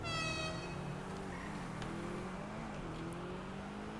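In Grand Theft Auto, a broken-down car's engine revs with a falling, strained tone that settles into a steady droning hum, heard alone without speech.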